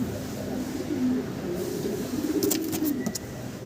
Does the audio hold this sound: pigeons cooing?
yes